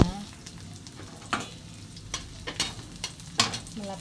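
Garlic and onion fry in a pan for a home dinner, a steady close sizzle broken by scattered crackles and stirring scrapes, with no talk.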